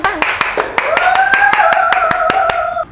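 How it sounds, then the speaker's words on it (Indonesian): Steady, rhythmic hand clapping at a Ganjar-Mahfud political campaign gathering, sharp claps spaced evenly about five per second, loud and close, with a voice sustaining a tone beneath them. "Tepuk tangan dulu, tepuk tangan,"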